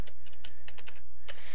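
Password being typed on a computer keyboard at a Windows XP prompt: a quick run of close, crisp key clicks in an irregular rhythm, with no voices.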